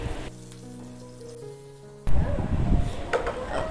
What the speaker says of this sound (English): When the sputtering sound is coming from the chili, then you add